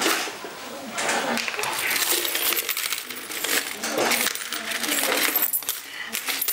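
A class's collected coins poured out together, a loud continuous jingling cascade of metal coins rattling and clinking, close up and sustained for several seconds.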